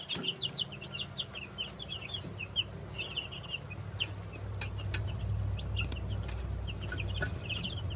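A young rooster chick on a farm, near a newly installed auto waterer, clucks and chirps in repeated short bursts over a low steady hum, fairly close and moderately loud.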